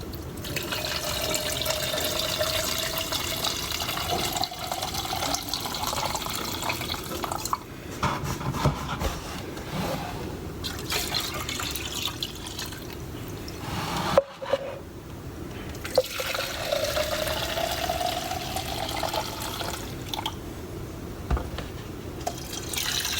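Two-stroke fuel mix for a 70cc booster scooter being poured and sloshed in a container, with steady liquid trickling and gurgling and a few sharp knocks, close and fairly quiet, without speech.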